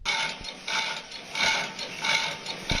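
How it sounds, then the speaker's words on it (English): A running printing press heard from inside, its mechanism clattering in repeating ratchet-like cycles of dense metallic rattling, loud and continuous with no voices. "I found a video from the inside of a printing press."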